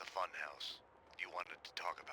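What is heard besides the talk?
No distinct noise like a dog, phone or traffic.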